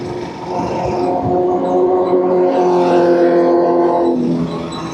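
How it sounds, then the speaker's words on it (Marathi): A heavy truck on the highway closes in from behind a bike on the Thane to Pune ride, its loud, steady engine roar building and swelling through the middle before easing slightly, with rushing wind throughout. "मला असं वाटलं की काही ट्रक येते मागून."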